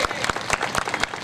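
An audience at an Ambedkarite poetry gathering in Prayagraj claps steadily, a dense crowd applause with distinct individual claps close by, sustained throughout the short moment.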